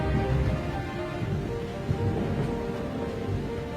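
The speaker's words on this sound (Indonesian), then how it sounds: "Kilat menyambar dan suara petir bergema di istana." Steady heavy rain pours throughout with a deep rumble of thunder rolling underneath, dense and continuous with no voices.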